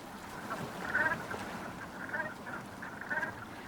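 Ducks and geese gathered to feed on herring and their eggs along a coastline, quacking and honking in repeated bursts over a low background of water and bird chatter.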